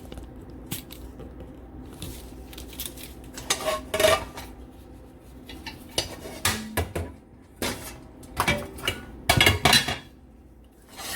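A pan with oil is handled on the stove as it heats, with scattered metallic clinks, scrapes and knocks of cookware and utensils, close and irregular over a faint background hum.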